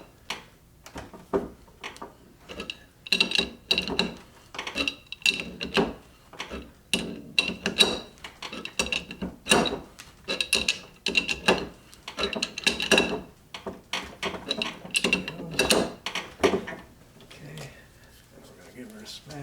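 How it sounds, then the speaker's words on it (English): A nut being tightened on the main shaft of an MGB three-synchro gearbox held in a vise, heard as a long run of sharp metallic clicks and knocks in irregular bursts, close and fairly loud, with talk in the background. "now we're going to just tighten up this nut"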